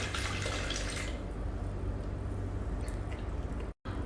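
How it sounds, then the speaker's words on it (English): Water trickles and drips as it is poured into the tank of a professional coolsculpting body-sculpting machine, a steady fill that thins out and quiets partway through, with no talk. "Now we inject water."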